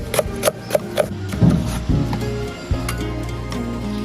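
A knife chops green peppers into strips on a wooden board, a quick run of four crisp taps followed by duller rubbing, scraping strokes, close and fairly loud.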